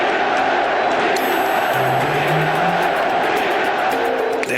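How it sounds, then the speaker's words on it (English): A basketball arena crowd roars continuously in archival championship footage, a loud, dense wash of cheering with faint tonal sounds drifting through. "listen to that crowd"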